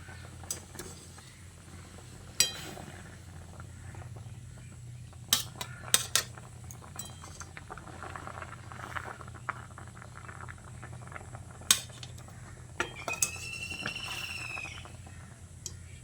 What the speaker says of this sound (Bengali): এখন আমি এই নাস্তাগুলোকে একটা স্ট্রেনারের সাহায্যে ছেঁকে তুলে নিচ্ছি। তুলে এই প্লেটে রেখে দিচ্ছি।